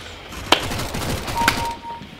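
Two sharp gunshots from Counter-Strike: Global Offensive ring out about a second apart over low game background noise, with a thin sustained tone trailing the second shot.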